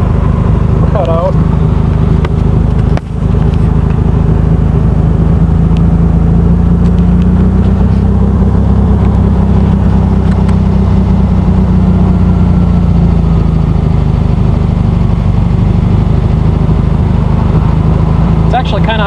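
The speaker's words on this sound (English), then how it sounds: "It's actually kind of idling nice for once. It's idling almost 18, now it's going for 2 grand." MG TD kit car built on a 1971 VW Beetle base, its air-cooled engine idling steadily nearby with a low, even throb that holds throughout, with a single brief knock early on.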